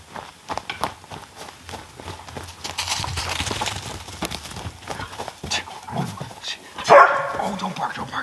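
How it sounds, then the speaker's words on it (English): A dog on an overnight canoe camping trip is heard amid rustling, footsteps and a person talking, with a sharp, louder bark bursting out near the end. "Oh, don't bark, don't bark."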